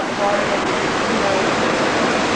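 A waterfall gives off a loud, continuous broadband rush of falling water, steady and close with no pauses.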